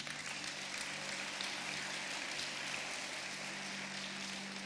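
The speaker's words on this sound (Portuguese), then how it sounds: "Pode aplaudir o nome de Jesus." Applause from a church congregation fills the space as a steady, dense wash of clapping, moderately quiet and continuous with no talk over it.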